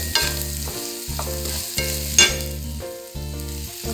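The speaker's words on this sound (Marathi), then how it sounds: "आता मी सगळं हलवून घेते" A spatula stirs ivy gourd with salt in a hot pan. Sizzling runs under it, and a loud rhythmic low knocking repeats through the stirring, close and continuous with no speech.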